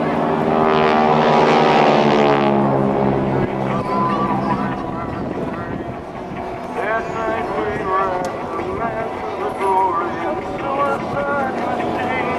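GEICO Skytypers propeller aircraft fly in formation at the NAS Oceana airshow, a loud droning propeller roar sweeping past with shifting pitch, while an announcer's amplified voice talks over it and wind buffets the microphone.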